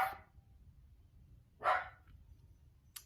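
A dog barks twice with sharp single barks spaced well apart. It is moderately close over a quiet, low background hum.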